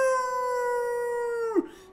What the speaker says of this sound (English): You freeze as a wolf's howl sends shivers down.